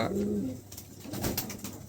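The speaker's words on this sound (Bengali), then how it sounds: "ব্লু বার এটা মেল কবুতর" A blue bar male pigeon coos at a pigeon shop: one low, throaty coo near the start, then quieter shuffling and background noise.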